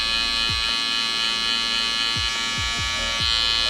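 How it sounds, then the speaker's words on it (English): A zero-gap electric hair trimmer buzzes steadily and close up while cutting a drop fade, with a constant motor hum and several short flicking strokes against the hair. "We're gonna grab a sharper trimmer. This is 0 gap."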